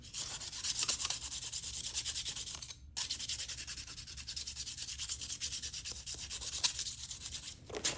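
Plier jaws rubbed against 400 grit sandpaper wrapped around a file, a steady close scratchy rasp of quick back-and-forth strokes, broken by one brief pause, with no talking.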